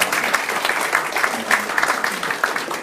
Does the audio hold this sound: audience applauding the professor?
yes